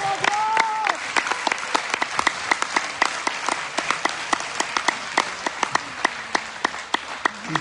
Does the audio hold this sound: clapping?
yes